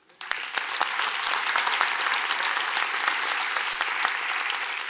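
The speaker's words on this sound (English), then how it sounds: "let's give everyone that got us to this point a big round of applause" An audience at a city's State of the City address breaks into sustained applause, a dense steady wash of many clapping hands with a few sharper individual claps standing out, filling the hall throughout.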